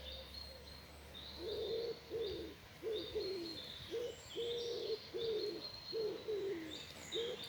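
Pigeons or doves coo in a steady repeating series of low calls while higher chirps from other birds sound intermittently in the background, all faint and with no voices.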